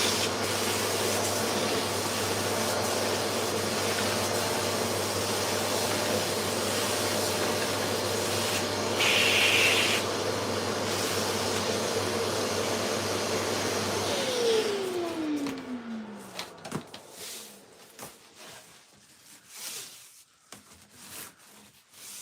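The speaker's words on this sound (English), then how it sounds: "let me just hoover this off quick now" A vacuum cleaner roars steadily in a woodworking workshop as it hoovers up sawdust, a loud continuous whoosh for about fourteen seconds before the motor winds down and fades, leaving scattered quiet rustles.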